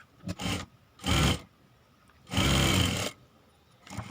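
A sewing machine stitches cross strips for a blouse in short bursts, three main runs of rapid whirring with pauses between them, close and clear with no talk.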